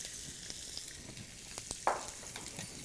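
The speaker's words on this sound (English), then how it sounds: "We're gonna saute them." Shrimp sauté in a pan with a quiet, even sizzle, marked by a few soft taps and a brief clatter partway through; no voices.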